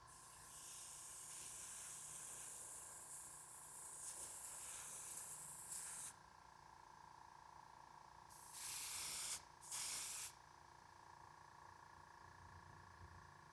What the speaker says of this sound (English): there's a little slow leak on my airbrush somewhere